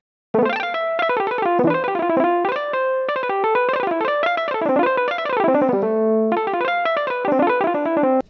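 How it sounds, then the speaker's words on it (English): Bright electric piano notes from a touch controller play in quick, flowing runs with a slightly effected, chorused tone, steady and clear with no voices. "Now I'm gonna enable this e-piano track I have just to show you what it sounds like."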